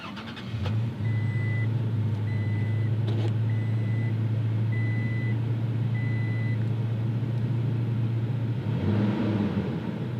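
A 2020 Toyota Tacoma SR5 pickup engine catches and settles into a steady, loud idle drone close by, with a faint repeating beep pattern sounding over it.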